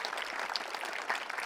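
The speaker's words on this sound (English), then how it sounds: "Give her a round of applause." An audience applauds a speaker from Healthcare Heroes Against Impaired Driving at a school drunk-driving awareness program, a steady wash of clapping at moderate volume with no voices.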